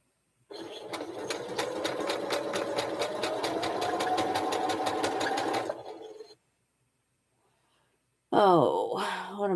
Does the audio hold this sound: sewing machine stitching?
yes